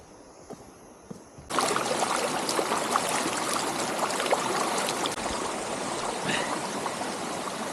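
Water flowing along a forest stream in Sairandhri, Silent Valley, Attappadi, a steady rushing wash that starts abruptly after a quiet second and then runs loud and continuous with no voices.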